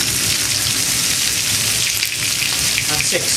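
Rack of lamb searing in a hot pan gives a loud, steady, hissing sizzle that stays constant throughout, with no talking over it.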